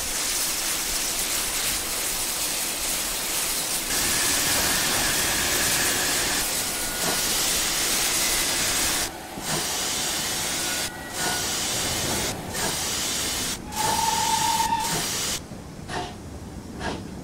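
Pannier Tank steam locomotive working as a station pilot in 1950s Riviera line simulation, giving steady loud steam hiss and rumbling rail noise throughout, with brief chuffs and a short whistle-like tone near the end.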